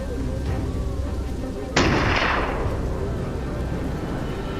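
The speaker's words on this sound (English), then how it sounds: "The booming gunfire blends with the dogs barking" A single loud gunshot cracks during a wild boar hunt, decaying over about a second against a steady background rumble.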